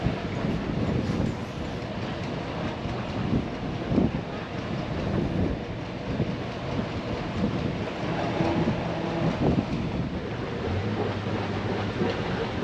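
Steady, loud wind rumbling and buffeting across the microphone outdoors on a boat in Friesland, with a constant broadband roar and low-frequency gusts throughout.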